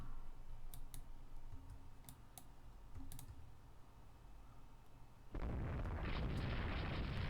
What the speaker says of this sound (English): I do hear the sound of guns.